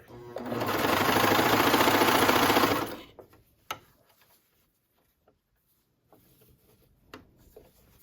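A sewing machine runs for about three seconds, a loud, fast, even whir as it stitches a curved shirt hem. It stops, and soft handling clicks and taps follow in near silence.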